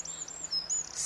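Garden birds sing and chirp: thin, high whistled notes come in short, repeated phrases over quiet background air.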